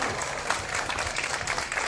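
Audience applause following a speech, a dense crackle of many hands clapping close and loud, continuous for the whole short stretch.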